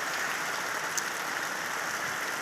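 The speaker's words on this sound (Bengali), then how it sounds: "সব বৃষ্টি পড়ছে, আর এই ছাদ থেকে জল পড়ছে।" Rain falls steadily with water running off a roof, making an even, close hiss of drops with no break.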